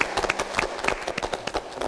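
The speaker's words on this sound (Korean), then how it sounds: "박수 한번 드릴까요?" Audience applause in a Korean broadcast talk-show studio, a steady wash of many hands clapping at moderate loudness without any voices over it.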